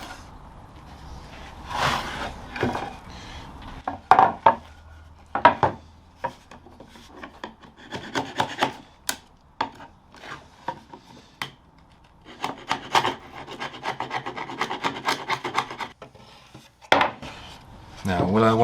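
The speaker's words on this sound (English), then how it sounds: "This is my cheap chisel that I use for such rough jobs." Cheap chisel working rough wood while building a Leopold chair, giving a run of irregular scraping, rasping strokes and sharp taps that come close and clear, with short pauses between bursts and no talk.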